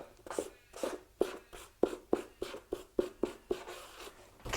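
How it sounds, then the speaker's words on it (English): Felt-tip marker squeaking across a cardboard box while a word is written, a close series of about a dozen short rhythmic strokes with brief pauses between them, no talking. "So on the first box, all right, we're going to write the word"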